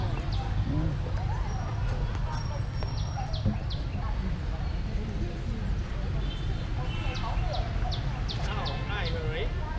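Chickens cluck and chirp in a busy outdoor yard, their short calls scattered over a constant low rumble, with people talking in the background.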